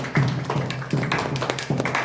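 Audience clapping for second-place students at a weekly discussion gathering, a few irregular bursts of hand claps that come close by, with no voices.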